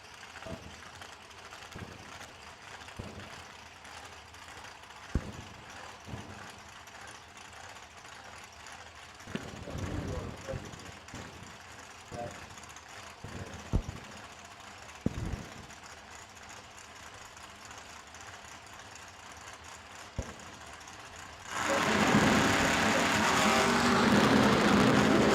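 A nitrous-fed 1963 split-window Corvette drag car roars at a drag strip, a loud, sustained engine blast rising suddenly after about twenty seconds of quieter, distant engine rumble and crowd ambience with scattered bursts.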